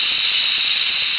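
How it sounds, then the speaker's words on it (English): An Instant Pot venting through its pressure release valve after cooking French onion soup gives a loud, steady, high-pitched hiss of escaping steam, close up and unbroken, with no voices. "I'm going to shut this off and release the rest of the pressure."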